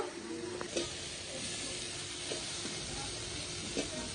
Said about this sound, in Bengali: এগুলো দিয়ে মশলার সঙ্গে বেশ সময় ধরে একটু কষাবো